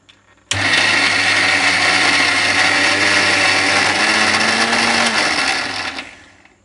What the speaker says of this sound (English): Churn it in the blender till you get this consistency.